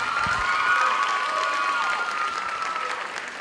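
A school talent show audience applauds a performer with steady, full clapping and some cheering, loud and continuous before easing slightly toward the end.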